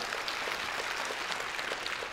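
A church congregation claps faintly, with a soft, even patter of many hands that continues briefly and sounds distant.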